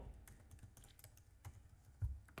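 Typing on a computer keyboard: a quiet run of irregular key taps with a few firmer strikes, close by, heard alone with no voices.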